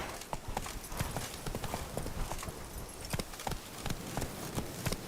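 Roach, the horse in The Witcher 3, gallops in a fast, steady clip-clop of hooves, close and even, with no talk over it.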